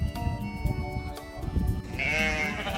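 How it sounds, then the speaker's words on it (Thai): Sheep and goats bleat together on a Thai livestock farm where both are raised, with a dense, overlapping chorus of calls. A louder, higher bleat rises near the end over steady farmyard noise. "เยอะมากเลยครับทั้งแพะทั้งแกะ"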